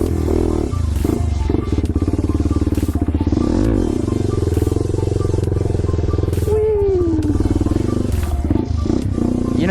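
A motorcycle rides up close, its engine revving and shifting pitch with uneven surges, rattly clatter and wind noise throughout.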